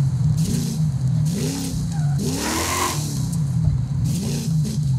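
A car engine in the video game Forza Horizon 5 revs up and down in rising and falling sweeps, loud and close, with a steady engine tone underneath and no talk.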